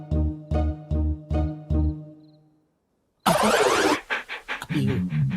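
A dog panting in a comedy film scene, five quick rhythmic breaths close up, then a short silence before a loud, noisy burst of sound takes over.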